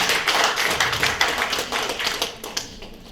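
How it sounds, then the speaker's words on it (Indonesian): Applause breaks out from an audience at an educational session held in a company head office, a dense patter of clapping that is loud at first, then thins and fades over about three seconds, with no talking. "tepuk tangan dong, luar biasa."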